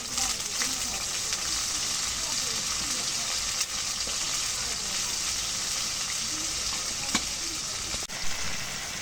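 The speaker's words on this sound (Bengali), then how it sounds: "মসুর ভেজে দিই" Lentils frying in a pan give a dense, continuous sizzle that holds evenly throughout, with a few faint clicks of utensils near the end.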